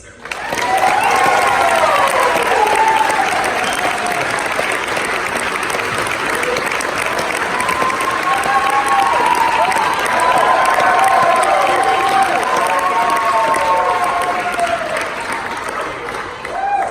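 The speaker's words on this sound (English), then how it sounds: "Let's give a huge round of applause to Nate Lutzer." A graduation crowd gives the valedictorian a long, loud round of applause. Clapping stays sustained throughout, with scattered cheers and voices rising above it.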